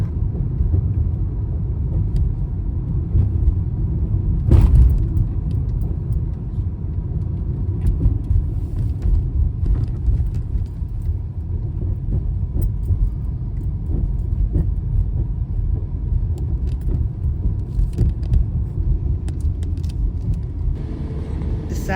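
A car drives steadily along the outskirts of town in West Memphis, Arkansas, giving a continuous low road rumble and engine drone with a brief louder bump early on. No one speaks.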